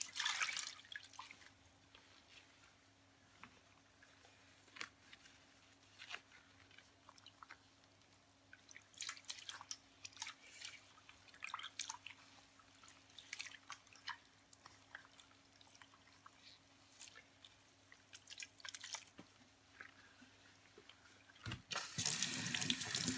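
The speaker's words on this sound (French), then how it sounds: "je vais rincer délicatement chaque écheveau une première fois" Lukewarm water runs and splashes steadily as naturally dyed wool skeins are rinsed by hand in a sink, with drips and soft sloshing throughout and a louder burst of water near the end.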